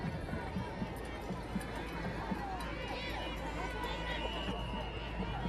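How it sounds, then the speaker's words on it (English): A huge crowd of spectators lines the street at the Granada Hills holiday parade, producing a steady, fairly faint murmur with scattered footsteps and movement while a nearby voice talks over it. "Yeah, huge crowd today."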